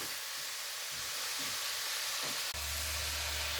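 Seafood for a risotto cooks in a pan, releasing its juices with a steady, bright sizzle and hiss, plus a few stirring movements and a low rumble that starts partway through.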